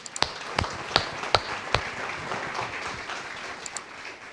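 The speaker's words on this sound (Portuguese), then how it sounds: "E uma salva de palmas a ele." Congregation clapping in a church service, a few sharp distinct claps up front giving way to a steady wash of applause that thins out toward the end, no voices over it.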